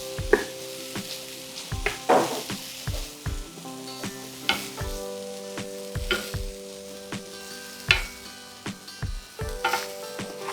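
Ground beef meatballs made with onion sizzling steadily in a pan, with sharp scraping and clacking knocks from a utensil moving them around, loud and close, with no talking.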